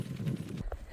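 Horses moving about a newly opened track paddock on a farm, with a brief soft run of hoof clops at the start, then a short whinny-like call near the end; fairly quiet and close, with no talk.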